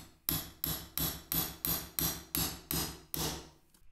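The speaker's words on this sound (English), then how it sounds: "using a nail set to drive them home was the best way to get them in" Small nails driven with a nail set into brass drawer labels on a wooden flat file cabinet: nine sharp, evenly spaced hammer taps, close and crisp, alone.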